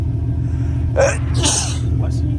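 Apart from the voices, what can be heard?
sneeze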